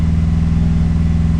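A Subaru STI engine runs steadily just after its first start following a rebuild, a loud, close, even low rumble at rough idle with no voices.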